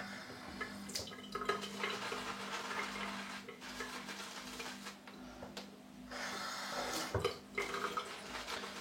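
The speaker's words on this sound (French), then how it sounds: "Je vais mettre de l'eau." Water from a tap runs and trickles into a hand while shaving lather is being worked up, a quiet steady pour with drips and small clatters, with no speech.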